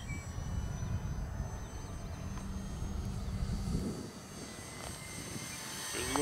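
An FMS P-51D 800mm RC model plane on its maiden flight drones steadily outdoors, a continuous engine and propeller rumble mixed with wind noise that holds fairly level, briefly dips, then swells again near the end.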